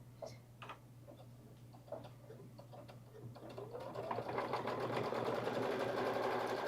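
A Kimberbell embroidery machine stitches a tack-down on a crossbody bag project, a steady rapid ticking hum that starts quietly and grows louder and denser, running continuously over a constant low background drone.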